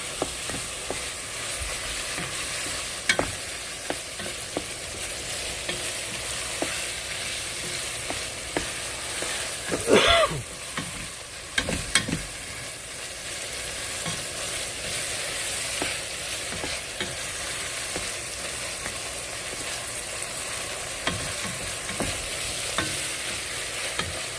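Cumin being stirred in a sizzling frying pan, with a constant close hiss of frying broken by scraping stirs and a louder clatter of spoon against pan near the middle.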